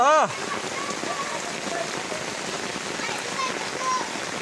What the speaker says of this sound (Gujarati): ખરેખર બહુ વરસાદ આવી આવ્યો છે